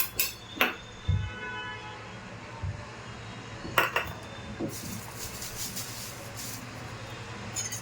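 Cornflour paste being stirred into boiling milk in a metal pot for homemade kulfi, with scattered clinks and scrapes of a spoon against the pot over a low background rumble, no talk.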